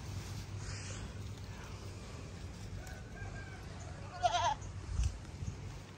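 Goats on a small farm bleat briefly at mid distance over a steady low hum, with a couple of soft thumps near the end and no talking.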